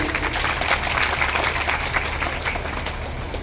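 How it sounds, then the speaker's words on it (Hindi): Steady applause from a large audience honouring the mothers at a seven-day Jambhani Harikatha religious gathering in a temple courtyard in Gharsana, dense and continuous throughout. "जोरदार माताओं के लिए तालियां मिलनी चाहिए भाई"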